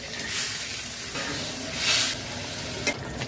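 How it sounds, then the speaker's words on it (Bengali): Fish frying in a pan for a spicy Bengali fish curry gives a close, continuous hissing sizzle that swells briefly midway, with a faint clink near the end. "মাছ ভাজা"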